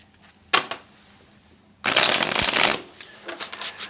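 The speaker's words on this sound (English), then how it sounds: "let's do a quick shuffle" Tarot cards shuffled by hand in two bursts: a short riffle near the start, then a longer, loud, dense shuffle lasting about a second, followed by light card handling.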